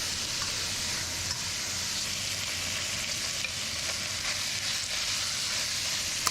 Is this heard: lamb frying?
yes